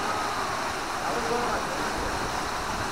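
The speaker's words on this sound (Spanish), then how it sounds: "Aquí llegamos a la cascada." Eaton Canyon Falls in Altadena, California pours steadily, a constant broadband rush of falling water close by.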